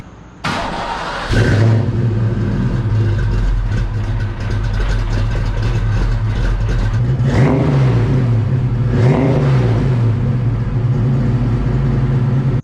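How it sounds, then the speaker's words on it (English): A convertible car engine cranks and catches, settles into a loud, close idle, then revs up twice in swelling bursts before easing back to a steady rumble. "let's go ahead and get the convertible started. Let's see which one sounds better."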